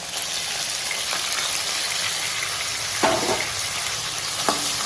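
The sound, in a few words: tomatoes sautéing in a pan for kuzhambu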